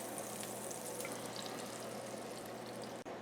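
Eggs frying in butter in a pan over less than medium heat, a steady soft sizzle and crackle close by with no talking.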